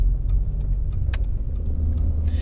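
Inside a Jeep Cherokee XJ on the move, a steady low engine and road rumble drones throughout, with light rattles and ticks over it.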